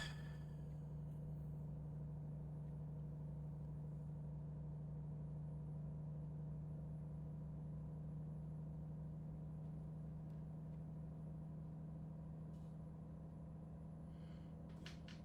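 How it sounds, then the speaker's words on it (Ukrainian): Low, steady engine drone with a constant hum inside the cab of a Volvo VNL 740 truck held at full throttle, even and unbroken, with faint clicks near the end. "Вижимаємо максималку. Це прям педаля в пол."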